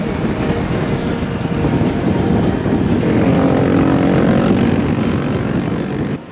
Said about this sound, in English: Look, airplanes.